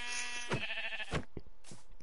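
Sheep in a blocky sandbox crafting game bleating in a couple of short, wavering calls, fairly close and clear, with game sounds between them.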